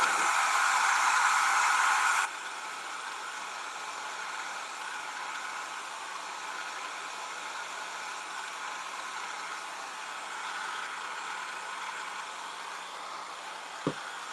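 Hair dryer blowing steady broadband air over freshly stenciled paint on a home decor piece, loud and continuous for the first two seconds, then a softer, sustained whoosh running to the end with a brief click near the close.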